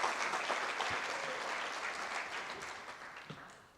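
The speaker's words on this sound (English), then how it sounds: "Let's give a round of applause to Trustee Haynes." Sustained audience applause at a college convocation, a thick even patter of many hands that gradually tapers off toward the end.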